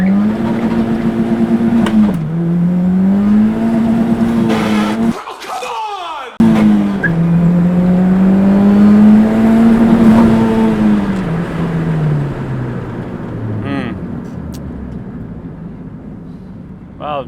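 A turbocharged Honda Civic with a K-swapped K20 engine and K23 head accelerates hard from a standstill, its engine note climbing loud and close and dropping abruptly at fumbled, missed shifts before pulling again, while people talk over it.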